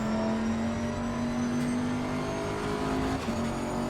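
Bentley GT3 race car in Assetto Corsa Competizione at Silverstone climbs through the gears, a loud continuous engine whine held close with a quick upshift dip near the end, no voices.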